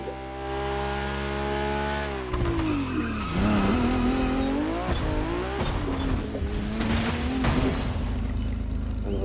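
A Ferrari GTO supercar in a racing game holds a steady engine drone, then revs hard and changes pitch repeatedly as it accelerates and shifts, with tire squeal and a gritty, close, continuous roar.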